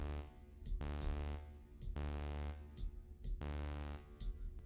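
MuseScore 4 Synth Bass 3 soundfont plays back sustained notes with reverb set to 40, three long droning tones with sharp attacks and quiet gaps between them, faint and alone.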